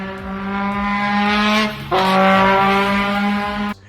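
Sustained, loud five-rotor race engine note with strong harmonic tones from intake and exhaust, briefly dipping near the two-second mark before surging again, then cutting off abruptly at the end.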